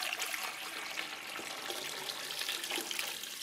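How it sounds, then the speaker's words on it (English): Water pours steadily into a pan over a flat cut corned beef brisket, a close, fairly quiet splashing trickle with small bubbling variations throughout and no talking. "Put in enough water to cover the beef."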